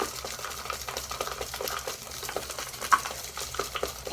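A stick stirring a thick mixture, giving a steady run of soft, wet scraping and swishing strokes at close range with no voices.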